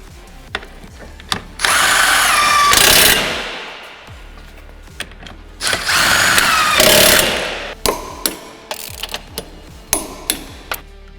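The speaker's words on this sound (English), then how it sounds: "We're going to start by just gunning the bolts in and try and keep them central as we go in." Impact gun running the towbar bolts in on an Audi SQ7, two loud sustained rattling bursts of about a second and a half each, followed by sharp clanks and taps of tools and metal close by.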